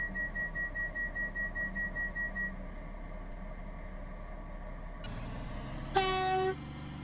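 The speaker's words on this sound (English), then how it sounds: "The train now approaching Platform 3 terminates here." A train pulls into a station in a video game on a Stepford line service, its steady rolling rumble pulsing rhythmically, then a brief, loud two-tone horn blast sounds near the end with no talking.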